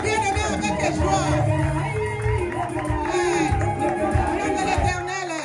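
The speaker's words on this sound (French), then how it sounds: "On acclame Jésus. On acclame le roi des rois, mes bien-aimés, avec joie." Church congregation joyfully acclaiming Jesus, a dense crowd of shouts, whoops and cheering voices layered with music, loud and continuous throughout.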